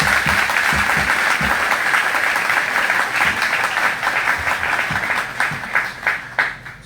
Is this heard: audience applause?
yes